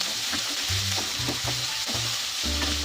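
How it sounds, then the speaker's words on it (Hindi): Cauliflower frying in hot oil in a pan, with a dense continuous sizzle and low rhythmic scraping or stirring pulses repeating roughly every half second, close and steady, without speech. "इसमें मैं डाल दूंगी फूल गोभी। इसे मैं 1 मिनट फ्राई होने दूंगी।"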